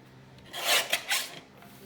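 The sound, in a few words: cutting paper for a mini album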